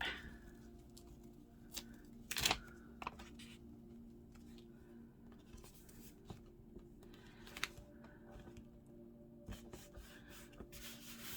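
A pen writes a signature on a collaged paper page, a faint close scratching and rubbing with one brief louder rustle, in an otherwise quiet room.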